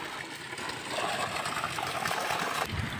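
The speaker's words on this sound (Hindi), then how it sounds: "अच्छा लग रहा है ना ऐसे पानी आते हुए" Water gushes steadily from a village spring spout in a hillside settlement, a close, continuous splashing rush that fills the whole stretch without talk.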